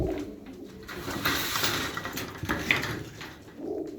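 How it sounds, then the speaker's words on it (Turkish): Tumbler pigeons cooing inside a coop: soft, low rolling coos repeating close by, with faint rustling and light background clatter. "Aynı kümesin kuşları abiler."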